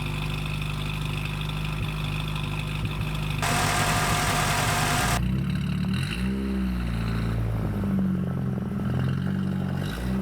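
First-generation Dodge Caravan engine idling after a cold start, a steady low rumble with a brief rise in pitch midway before settling back into an even idle.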